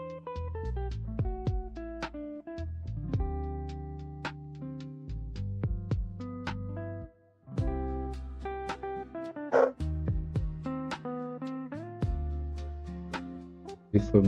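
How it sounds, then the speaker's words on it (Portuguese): Dogs bark and yip repeatedly in the background, short sharp barks scattered over a steady musical tone that runs throughout. "Me desculpa pelos cachorros aí."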